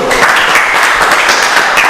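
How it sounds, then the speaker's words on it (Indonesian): Students in a grade eight gymnastics class applaud for the first group: a dense, steady round of clapping that fills the whole short stretch without any talk. "Tepuk tangan untuk kelompok 1."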